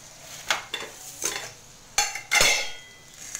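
Cooked raw mango stirred in a pan with a spoon, producing a few distinct scrapes and clinks spaced irregularly over a faint background, close and fairly quiet, with no voices.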